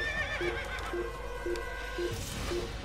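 Horse in the Assassin's Creed video game gives a whinny with a descending tremolo at the start, followed by a steady game soundscape with repeated short tonal blips at regular intervals; no speech.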